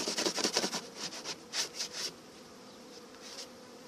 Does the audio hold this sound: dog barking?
no